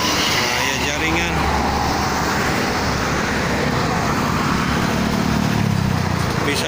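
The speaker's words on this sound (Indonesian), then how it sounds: "Bisa dilihat teman-teman, kebanyakannya mobil angkutan ya pagi ini, sama bis pagi." Morning traffic of goods trucks and buses rolls along the Jakarta–Cikampek toll road: a continuous roadway roar with vehicles swelling past, one passing especially close and loud near the end.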